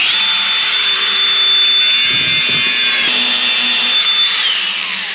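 A grinder works metal on a GT40 car build, a loud continuous high whine with a shifting pitch and a brief rougher patch midway, close by and steady throughout.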